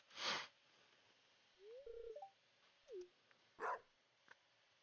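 Dog in the Stardew Valley video game giving a few short, soft game-style barks and yips between other chiming sound effects, with no talking.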